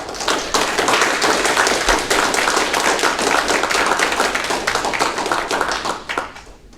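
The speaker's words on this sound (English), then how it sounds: "A round of applause for Damian Carrillo, Noe Cisneros, Adrian Qu" Sustained applause from an audience at a public parks and recreation district meeting, dense steady clapping that holds for several seconds before tapering off near the end.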